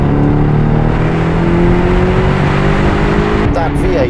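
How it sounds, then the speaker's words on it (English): Aston Martin DBX with its V8 engine in Sport Plus mode revs hard and climbs steadily in pitch, loud and close, holding one long sustained wail with a brief downshift blip near the end. "That V8 just revs and revs and revs."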